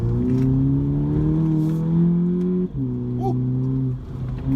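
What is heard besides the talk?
VW Polo GTI engine accelerating through a corner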